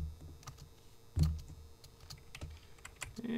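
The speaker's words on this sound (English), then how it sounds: "I'm just doing a find function on the keyboard for 369." Soft keystrokes on a computer keyboard, a handful of quiet, irregularly spaced clicks and taps close by in a still room.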